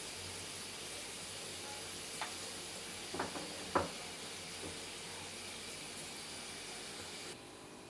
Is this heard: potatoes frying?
yes